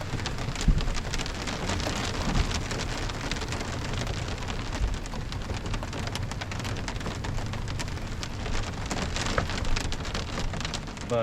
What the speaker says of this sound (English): There's some thunder.